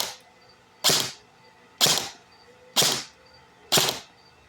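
An AEG airsoft gun on a fully charged 11.1-volt battery fires five sharp, evenly spaced shots, each a loud close crack with a short tail, separated by near-silence.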